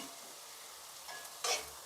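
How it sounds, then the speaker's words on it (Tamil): Beaten eggs poured over beans frying in a pan and mixed lightly, a soft steady sizzle with a brief scrape and a sharper burst of frying near the end, quiet and close, no talk. "ஊற்றிட்டு இது லைட்டாக மிக்ஸ் பண்ணி விடுங்க."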